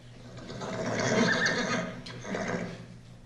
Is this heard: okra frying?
no